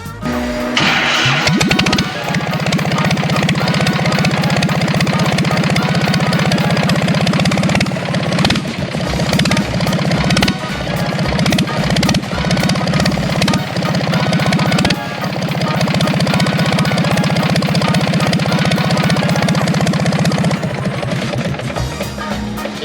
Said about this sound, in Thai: เจ้าตัวเครื่องยนต์ที่เราทำเสร็จมาแล้วเนี่ย เสียงการใช้งานมันจะเป็นยังไงนะครับ